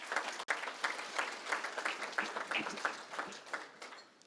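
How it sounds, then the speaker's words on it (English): Audience applause at the Manatee Tiger Bay Club's Pat Glass Leadership Awards ceremony, a steady wash of many hands clapping from a large room that holds for several seconds, then starts to thin out near the end. "Please give them a round of applause as they come."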